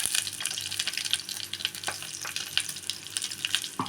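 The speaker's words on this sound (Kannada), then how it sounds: "ಇದನ್ನು ಎಣ್ಣೆಲೆ ಸ್ವಲ್ಪ ಮಸಾಲೆ ಹಾಕಬೇಕು" Ground masala and browned garlic fry in hot oil for mango sambar, giving a close, steady crackling sizzle with scattered pops and faint stirring scrapes, and no talking.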